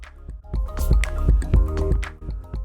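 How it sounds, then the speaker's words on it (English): Green chillies, about 500 grams, being washed by hand in water: close splashing, squishing and dripping with repeated sloshes and drips, no talk. "Wash thoroughly 2 to 3 times."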